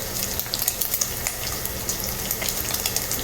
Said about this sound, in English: So my bacon is cooking nicely. And I'm gonna go ahead and add in my sausage.